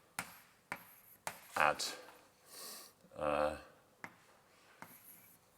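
A lecturer writes on a board in a graph theory class, with sharp chalk taps and short scratchy strokes at irregular intervals. Brief bursts of his speech come between the strokes.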